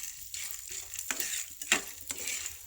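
Fish head frying in hot oil in a home kitchen, a steady close crackling sizzle with a few sharper bursts of spatter as it settles, no voices.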